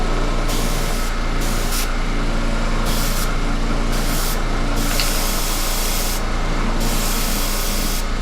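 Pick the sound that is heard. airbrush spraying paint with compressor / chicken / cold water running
airbrush spraying paint with compressor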